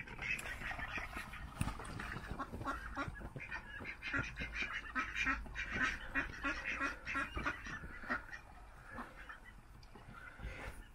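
Resident ducks beside a narrowboat quack continuously in a dense, close chorus of overlapping honking calls, fairly loud and with no voices over them.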